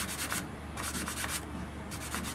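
Fine 220-grit sandpaper rubs back and forth over a wooden Native American flute totem in quick, close, rhythmic strokes with no voices.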